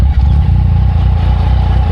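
A 2017 Yamaha XSR900 motorcycle fitted with a Delkevic full exhaust and no catalytic converter runs loud and close, its deep, steady engine drone rumbling continuously with slight rhythmic pulsing.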